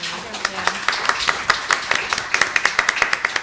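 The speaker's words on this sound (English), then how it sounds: "Let's give them all a round of applause." Audience clapping for a panel of speakers at a live policy event, a run of sharp, distinct claps at moderate level that build into steady applause over a few seconds.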